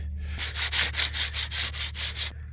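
Rhythmic back-and-forth hand sanding on a wooden hiking stick, about nine quick gritty strokes in a steady rhythm, close by and with no talking.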